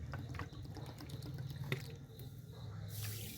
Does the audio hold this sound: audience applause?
no